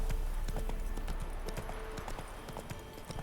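Hooves of Roach, the horse in The Witcher 3 video game, clop in a quick steady rhythm, close and distinct, continuing over a low background with no speech.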